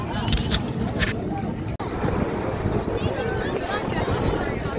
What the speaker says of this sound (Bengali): সমুদ্র আজকে বিশাল উত্তাল, মানে বিশাল উথাল পাথাল ঢেউ হচ্ছে